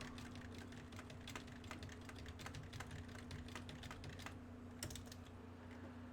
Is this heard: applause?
no